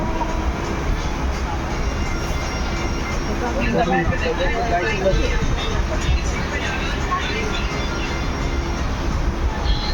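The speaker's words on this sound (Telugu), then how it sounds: "బోజో నుంచి బయలుదేరింది బండి, ఒక 2 నిమిషాలు మాత్రం ఆగింది ఇక్కడ." The Avadh Assam Express rolls steadily between Bojo and Dipu, a constant loud rumble and rattle of carriages on the rails that fills the whole stretch, with faint voices underneath.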